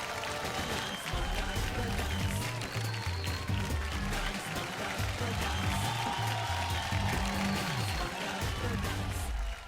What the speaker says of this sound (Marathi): जोरदार टाळ्या होऊन जाऊ द्याल आपल्या ग्रँड मास्टर आणि रेमो सरांसाठी